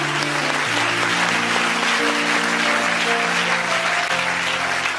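A church congregation claps in praise of the Lord, a steady, fairly loud wash of applause running throughout, with sustained musical tones underneath.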